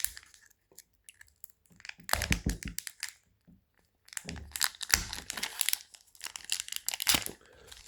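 Plastic wrapper of a Magic: The Gathering Foundations booster pack being torn and crinkled open by hand, with bursts of crackly rustling that come in stops and starts, close and fairly quiet.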